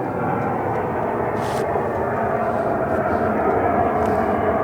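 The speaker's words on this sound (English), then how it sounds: "I always get this. The airplanes." An airplane passes overhead with a steady, loud broadband roar that holds throughout, heard outdoors beside a 2010 Subaru WRX GR hatchback.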